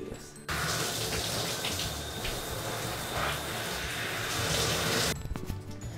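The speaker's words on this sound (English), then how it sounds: "right now I gotta get a shower because I'm pretty gross right now" Water runs in a steady, loud continuous hiss from a shower at home, starting abruptly after a brief pause and cutting off sharply near the end.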